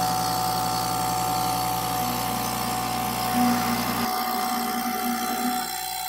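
A machine cuts a watch part with the air blast running: a steady mechanical hum with a constant hiss of air and a whining tone continues throughout, and the lower drone drops out partway through.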